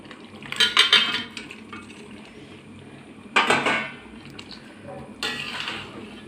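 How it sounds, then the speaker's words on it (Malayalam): Chicken drops into boiling biryani masala in a pot, giving three separate bursts of metallic clatter and scraping from the utensil and pot, with quieter simmering in between. "ഞാനിത് ചിക്കൻ ഇട്ട് കൊടുക്കാം"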